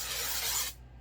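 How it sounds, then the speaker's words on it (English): A steady hiss of Flower Beauty Jet Set Invisible Powder Spray from an aerosol can, close and loud for under a second before it cuts off abruptly. "This is from Flower Beauty. If you guys have not seen this, this is the Jet Set Invisible Powder Spray."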